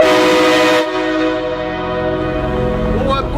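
A loud train horn used as a prank on drivers blares close and sustained, then cuts off abruptly, leaving traffic noise and a faint voice.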